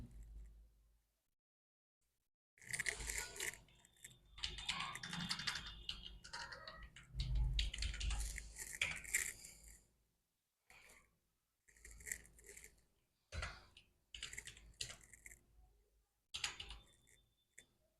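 Keyboard keys are typed in quick bursts separated by pauses while an OTR ID and password are entered on a UPSC NDA 2024 application site, close and fairly crisp clicking, with silence at the start.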